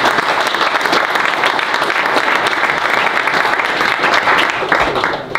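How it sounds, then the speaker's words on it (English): Applause from the audience at a men's Catholic gathering in Dearborn County, close, lively clapping from many hands that keeps an even level and fades slightly at the very end. "Round of applause for Nathaniel."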